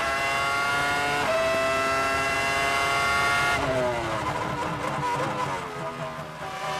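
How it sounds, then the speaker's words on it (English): Formula One cars at the 2000 Spanish Grand Prix give a high, sustained engine whine. The pitch climbs steadily, then drops as the car passes, and the sound is loud and continuous. "The magnificent Ralf Schumacher, who again, as he did on his first set of tyres, locks up the left front"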